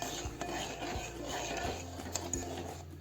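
A spoon stirs milk, water and sugar syrup in a pot, giving a continuous soft scraping and light clinking against the metal, steady and close throughout.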